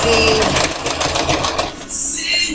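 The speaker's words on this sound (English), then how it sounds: "I'm going to go ahead and sew this together" A sewing machine stitching quilt strips together for a nine-patch block, a close, loud rapid mechanical chatter of the needle that stops briefly, then a short whir as it starts again.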